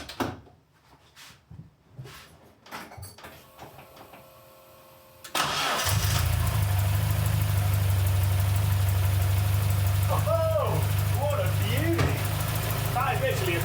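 After a few quiet clicks and cranking sounds, a car engine catches after sitting unused for months and settles into a loud, steady idle close by, with brief faint voices over the rumble later on.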